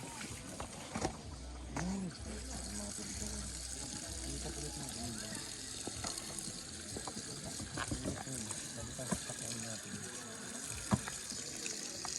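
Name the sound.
water being poured while camping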